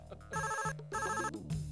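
An electronic telephone ringtone chimes in repeated bright bursts with short gaps, loud and close, with no talking over it.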